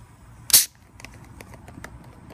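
A sealed bottle of basil-infused, lightly sweetened carbonated orange soda is cracked open with one sharp, close pop-hiss, followed by a faint fizzing of bubbles.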